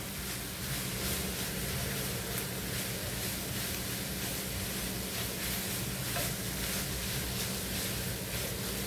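Chicken with grated carrot sautéing in a pan, a steady soft sizzle and hiss that runs evenly throughout without pauses or voices.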